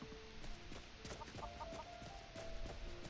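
A chicken clucks in a farm area of a video game, soft short clucks in an irregular rhythm, faint and close, over a quiet steady background with no talking.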